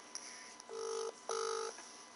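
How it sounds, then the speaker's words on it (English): Two long electronic telephone tones sound one after another at low level, each a steady buzzing beep lasting under half a second, with quiet ticks just before. "Phone Derek."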